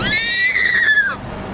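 A person imitates a horse's whinny with a high, wavering voice that rises then slides down, held for about a second.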